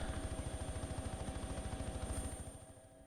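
Helicopter in the DayZ Expansion Mod game thrums with a steady rapid rotor beat and a faint high whine, quiet and even before fading toward the end, with no talk.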